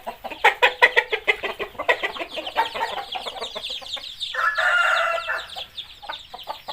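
Farmyard chickens, hens with chicks just venturing out in cool 17-degree weather, cluck in quick repeated bursts, loud and close, with a sustained squawking call rising midway before the clucking resumes.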